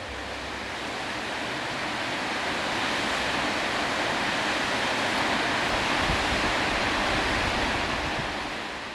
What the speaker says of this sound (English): I sat there looking at this waterfall for a long time